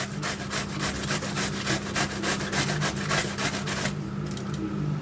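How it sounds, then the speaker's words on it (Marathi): Cabbage grated by hand on a grater for jowar thalipeeth, a steady, close rasping scrape in quick repeated strokes with no talking. "जाडसर आहे ना किसला तरी तो एकदम बारीकच पडतो तुम्हाला मी दाखवते किसून"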